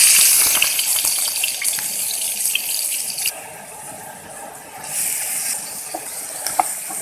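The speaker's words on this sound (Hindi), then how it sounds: "घी है वो गर्म हो चुका है। अब हम इसमें प्याज डाल देंगे।" Onions drop into hot ghee in a pan, setting off a loud hiss that settles into steady frying sizzle. A few small clicks from the pan sound close by, and no one speaks.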